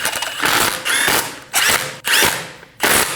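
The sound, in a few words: ratchet snugging down lug studs on a VW Passat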